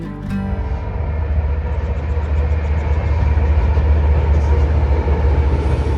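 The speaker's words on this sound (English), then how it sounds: "lengthy trains transporting cargo across the deep ravine" Freight train rolling over a railway bridge across a deep ravine, a steady heavy rumble of wheels and cars building slightly in loudness, heard alone without voices.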